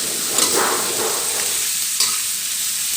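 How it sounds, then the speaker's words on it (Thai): Asparagus stir-fries with pork belly in a hot pan, giving a continuous close hiss of sizzling with a couple of brief stirring scrapes. "ผัดหน่อไม้ฝรั่งให้สุกถึงจะทำการปรุงเด้อค่ะพี่น้องจ้า"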